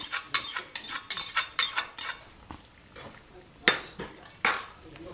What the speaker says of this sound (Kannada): ಈ ಸಪ್ರೇಟಾಗಿ ಒಗ್ಗರಣೆ ಹಾಕಿರೋದನ್ನ ಹಾಕ್ತಾ ಇದ್ದೀನಿ ಇದರಲ್ಲಿ